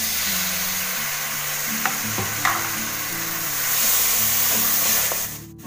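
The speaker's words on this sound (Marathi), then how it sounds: "चांगलं तेल सुटेपर्यंत आपल्याला परतून घ्यायचं आहे" Tomatoes with spices sauté in hot oil, giving a continuous close sizzle with a couple of sharp clinks of a spoon against the pan under a low steady hum, and no one talking.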